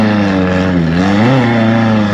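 A Chevrolet Tracker climbs a sand dune, its engine revving hard and close, with the pitch dipping and then rising as the clutch works, loud and unbroken.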